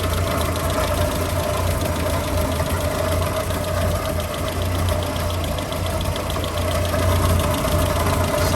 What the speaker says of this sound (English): But aside from that, the engine itself seems to be in fine fettle.